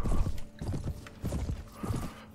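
Horse hooves clip-clop in the medieval video game Mount & Blade: Warband, heavy, close thuds in an uneven trotting rhythm over a low background hum.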